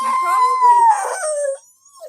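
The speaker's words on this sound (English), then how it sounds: "Puppies and all the whining." Puppies whine loud and close in a high, wavering cry that dips and trails off, followed by a brief fainter whimper.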